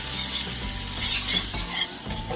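All-purpose flour being whisked into a hot pan, a steady close stirring and scraping under a soft sizzle, with no talk.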